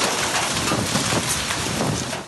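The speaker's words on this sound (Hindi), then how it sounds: "बड़े बड़े ओले गोले बनकर गिरे।" Hail and rain pour down in stormy winds during a Pakistan thunderstorm, a dense, continuous roar of hiss and wind buffeting with no distinct pauses.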